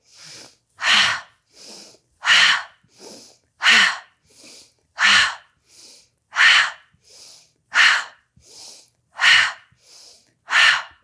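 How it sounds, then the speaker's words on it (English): Loud, audible yoga breaths repeat in a steady rhythm during seated twists, each sharp inhale followed by a forceful exhale, alone and close. "This will be our inhale. We'll exhale audibly to the left."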